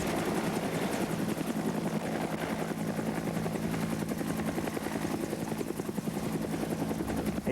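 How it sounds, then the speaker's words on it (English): A military helicopter on a special operations flight, its rotor beating in a fast, steady chop over a loud engine drone, continuous and close for several seconds. "whether it be a normal helicopter move forward"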